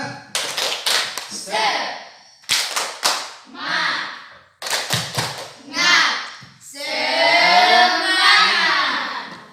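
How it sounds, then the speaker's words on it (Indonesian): A classroom of students doing a rhythmic tepuk semangat spirit clap, sharp clustered clap bursts in a patterned sequence alternating with chanted voices, loud and close, ending in a sustained group shout. "kita tepuk semangat supaya kita semangat kembali"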